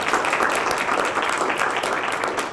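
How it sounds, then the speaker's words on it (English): A workshop audience gives sustained, dense applause for the presenters, a full, even roar of many hands clapping close by throughout. "I think we should all clap again and say thank you to all the presenters"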